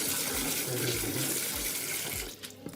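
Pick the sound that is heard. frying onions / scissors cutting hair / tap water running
tap water running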